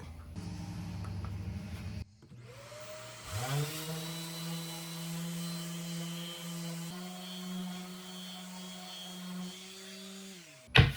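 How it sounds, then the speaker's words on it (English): A power sander with 120-grit sandpaper on olivewood and epoxy starts up and runs with a steady, loud whine and droning hum for several seconds, then shuts off abruptly at the end. "we're going to do our sanding. I already got my 120 sandpaper on here."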